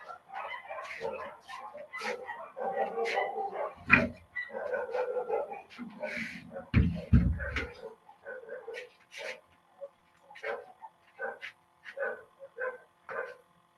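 Several street dogs bark and yip in irregular bursts close by, with whimpering yelps in between and brief pauses as the barking tapers into scattered short yaps.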